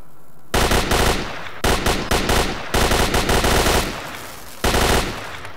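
Loud automatic rifle fire in the shooter S.T.A.L.K.E.R.: Shadow of Chernobyl, arriving in several long, rapid bursts separated by short pauses, close and dominant with no voices over it.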